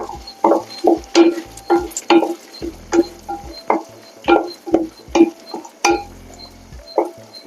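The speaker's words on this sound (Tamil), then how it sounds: "வெங்காயம் நல்லா வதங்கட்டும்." A spoon repeatedly scrapes and clinks against a clay pot in a steady rhythm while small onions softly sizzle frying underneath.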